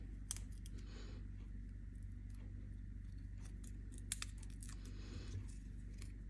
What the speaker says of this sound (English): I'm gonna have to trim off some of that.